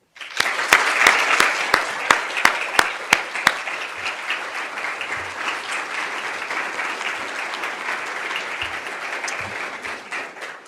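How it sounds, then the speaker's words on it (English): A handful of sharp, separate claps opens the sound, then the audience at a medical school stethoscope ceremony joins in. The applause swells into a sustained, even roar that holds steady to the end. "Please join me in a round of applause for those dedicated donors."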